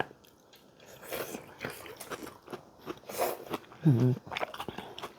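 Someone eats banana stem in khanom jeen, Thai rice noodles in curry, with close crunchy bites and moist chewing and a voice briefly heard alongside.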